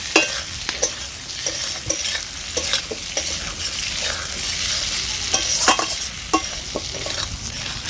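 Fried potatoes and onions sizzle steadily in a pan as tomato and slit green chillies are stirred in, with frequent close scraping clicks of a spoon over the constant frying hiss.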